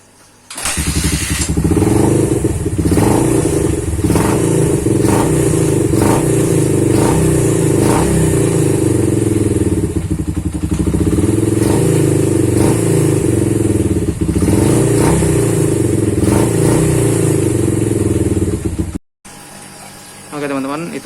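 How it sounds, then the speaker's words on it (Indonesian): A homemade custom cafe racer motorcycle, converted from a scrambler, runs with a loud, close exhaust note. It sustains a throbbing idle with repeated rev blips for nearly twenty seconds before cutting off abruptly. "Nanti gue kasih denger suara knalpotnya deh."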